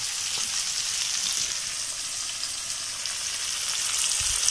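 Spicy chicken liver and intestine frying with salt and tomato in a pan, giving a steady, close hiss and sizzle that holds even throughout with a faint clatter near the end.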